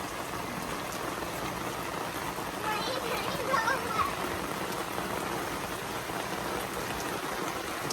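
Rain falls steadily outdoors on a wet day in Canada, a close wash of drops with voices, including a child's, talking over it.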